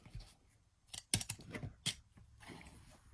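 A slotted trimmer ruler guides a blade through half square triangle quilting fabric, giving a few short, crisp cutting strokes close by, spaced over about two seconds in an otherwise quiet room.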